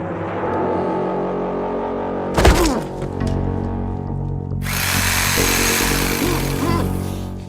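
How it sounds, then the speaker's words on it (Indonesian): A power saw whines and buzzes steadily, loud and close, with a brief clattering burst midway before the motor revs up again. "suara gergaji seketika membuat panik pria itu"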